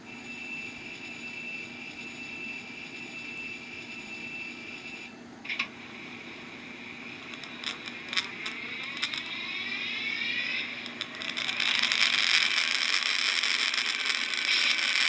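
An Athearn Genesis EMD F3 model locomotive plays its diesel engine sound through a small speaker, a steady droning rumble that rises toward the end, with hissy bursts and clicks layered on top.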